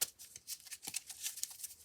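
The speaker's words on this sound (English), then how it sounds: "And we're going to shuffle up a little bit." A deck of tarot cards is shuffled up close in a quiet room, giving a series of quick papery riffles and soft flicking bursts that come in short uneven clusters.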